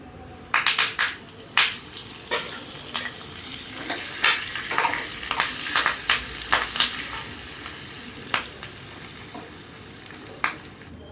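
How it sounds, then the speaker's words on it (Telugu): A tempering of urad dal, cumin, two dried red chillies, asafoetida and curry leaves fries in hot oil for tomato rasam, with a steady soft sizzle and frequent sharp pops and crackles close by. "పోపు చక్కగా వేగిందండి."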